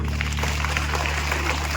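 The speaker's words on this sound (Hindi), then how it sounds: "जोरदार तालियां इनके लिए" Schoolchildren clapping together during a morning assembly, a dense, even patter of many small hands at moderate loudness over a constant low hum, with no talking.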